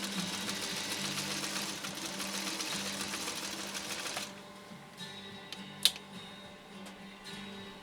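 A 1953 Singer 301A sewing machine runs steadily over slippery fabric for about four seconds, a close, even mechanical whir, then stops, leaving faint handling clicks and one sharp tap.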